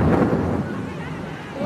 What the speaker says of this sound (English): To create a good storm, you need the right mix of thunder